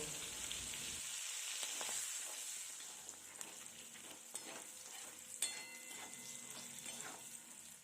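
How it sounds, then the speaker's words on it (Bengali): Nigella seeds, slit green chilies and turmeric powder fry in oil for hilsa curry, a faint steady sizzle broken by soft stirring scrapes and a few light clicks, heard alone. "আর পরিমাণ মতো হলুদ গুঁড়ো দিয়ে মশলাগুলোকে খুব ভালো করে ভেজে নেব"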